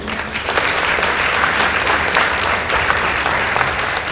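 Steady, dense applause from a large audience at a high school competition, loud and sustained throughout with no pauses.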